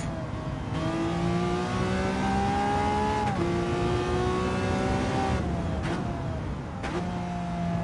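A Lamborghini V12 engine revs hard in Gran Turismo 7, climbing through gears in a loud continuous whine with rising pitch sweeps, each shift marked by a short dip before the next climb.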